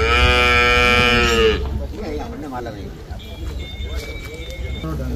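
A Murrah buffalo at a cattle market lets out a loud, close, sustained moo that ends after about a second and a half, followed by market chatter and voices talking in the background.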